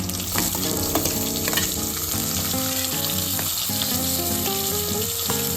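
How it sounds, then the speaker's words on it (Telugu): Chopped onions sizzle in three spoonfuls of hot oil, a close, dense, unbroken crackle with small popping ticks throughout and no voices. "మూడు చెంచాల నూనె పోసి నూనె వేడెక్కినాక ముందుగా కోసి పెట్టుకున్న ఉల్లిగడ్డ ముక్కలు వేసుకోవాలి"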